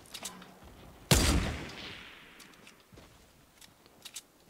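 A burst of gunfire in Fortnite erupts suddenly, loud and close, then decays into a long fading tail, with a few faint clicks and taps scattered before and after.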